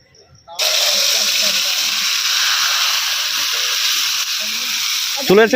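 Kachori dropping into hot oil in a kadai sets off a loud, steady broadband sizzle that starts abruptly after a brief quiet and holds evenly throughout, with a voice cutting in near the end.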